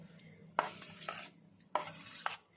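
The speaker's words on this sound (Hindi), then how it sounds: "इस तरह चम्मच की मदद से मैंने इसको फेंट लिया है" Milk cream being whisked with a spoon in a bowl, a few quiet scraping and clinking strokes in two short bursts, no talking.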